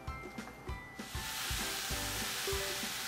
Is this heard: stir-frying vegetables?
yes